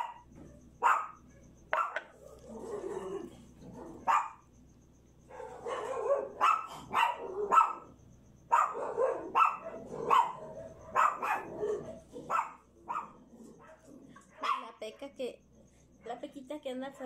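A dog barks outside in short, repeated bursts, with other dogs barking faintly farther off, while a person talks over the barking throughout.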